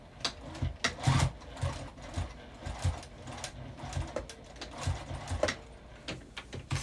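Sewing machine stitching a tea bag wallet, including a back stitch: uneven bursts of mechanical rattling and whirring, close and moderately loud, with short stops and starts and no talking.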